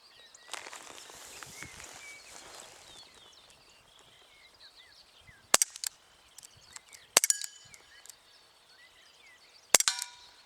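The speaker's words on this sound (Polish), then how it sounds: "Pistolet po każdym strzale się sam przeładowuje." Three sharp, sparse cracks from a Walther CP99 Compact CO2 air pistol firing .177 caliber (4.5 mm) pellets, self-reloading after each shot, spaced a couple of seconds apart over quiet background noise, with a brief rustling passage before the first shot.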